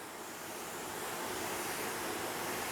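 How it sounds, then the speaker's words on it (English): A mister connected to tap water sprays a light, even mist across the growing medium of a radish microgreen tray, a steady close hiss of fine spray that swells slightly and continues without talking. "take our mister, which is hooked up to our tap water, and we're going to just give this a light, good mist across all the medium"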